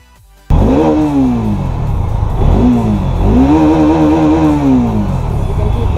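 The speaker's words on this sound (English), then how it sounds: "So now let's see how the motorcycle sounds." A Bajaj Dominar 400 motorcycle engine starts up loud and close, then revs up and down in repeated surges, its pitch rising and falling.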